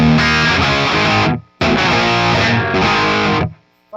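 Mid-gain distorted electric guitar riff through a Friedman BE100 amp, loud and dense, played in two bursts with a brief break between them, ending abruptly.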